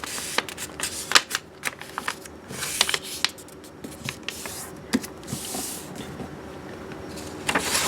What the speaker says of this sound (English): To make the tulip, you fold a square sheet of paper in half diagonally